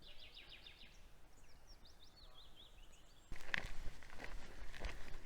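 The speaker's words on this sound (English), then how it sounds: "all you can hear is birdsong" Birdsong in a Scottish Highland forest: several bright, quick chirps and short trilling phrases at moderate distance over a quiet, hissy background, then crunching footsteps take over partway through.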